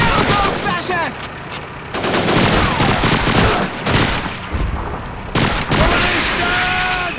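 Call of Duty 2 campaign battle with sustained machine-gun and rifle fire in loud rapid bursts, continuous through the scene, with shouted commands mixed in.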